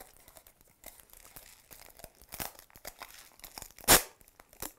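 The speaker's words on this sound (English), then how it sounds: "And I'm going to tape that on good and tight" Tape torn and pressed around tin foil on a homemade musical instrument: close crinkling and rustling throughout, with one sharp loud tearing rip near the end.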